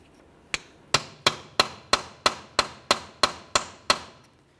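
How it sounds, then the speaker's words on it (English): Eleven sharp metallic hammer blows strike a punch to free a CV axle from the wheel bearing of a 2012-2018 Nissan Altima, in a steady rhythm, each ringing briefly, close and loud with no talking. "Continue on with a hammer and punch."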